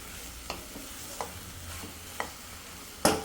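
Spice powder for a tomato and egg curry frying in a pan over low heat, a faint steady sizzle broken by a few soft scrapes of stirring and a louder clatter near the end.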